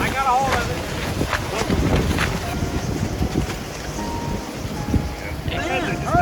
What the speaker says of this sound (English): Now, is this wind bringing something in?